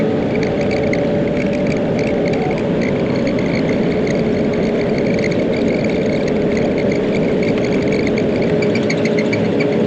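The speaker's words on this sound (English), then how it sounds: "Chopper's a bit too heavy for this tractor." A tractor engine labors steadily while pulling a heavy chopper through a horse pasture, a loud, continuous low drone with a constant tonal whine and no break across ten seconds.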